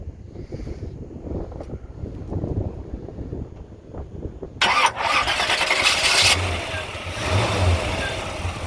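Wind rumbles across the microphone, then a Chevrolet 150's 350 crate V8 with Flowmaster exhaust cranks and catches partway through, settling into a deep, throaty idle with a brief rev.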